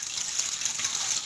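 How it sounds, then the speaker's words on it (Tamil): Steady gush of running tap water rinsing vegetables, a continuous close splashing stream at low level with no voices. "முக்கியமாக இதை தான் நம்ம ரன்னிங் வாட்டரில் கழுவணும்."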